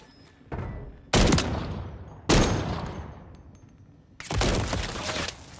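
Gunfire in a Call of Duty Modern Warfare III match: three loud, sharp bursts of shots, each fading into a ringing tail before the next, with quieter rattling between them.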